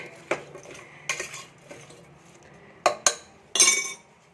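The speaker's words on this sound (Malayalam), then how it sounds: "ഇതും കൂടി നമുക്ക് ഇതിലോട്ട് ഇട്ടിട്ട് ഒന്ന് ഇളക്കി കൊടുക്കാം" Chopped potatoes are stirred in a cooking pot in a home kitchen, with a few sharp metallic clinks and scrapes of a spoon against the pot spaced apart amid quiet pauses.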